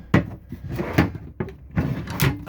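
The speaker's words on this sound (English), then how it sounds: "The step pulls out like so," The pull-out entry step of a Laika Ecovip H 4109 DS motorhome slides open, giving a string of hollow knocks and sliding scrapes, loud and close, with no talk over it.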